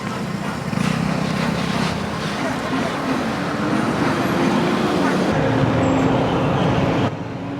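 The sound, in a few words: road traffic around temple festival area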